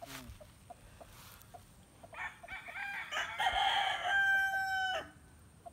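A rooster at a game farm crows once, a clear multi-part cock-a-doodle-doo at moderate distance, over quiet outdoor background with faint clucks and other birds.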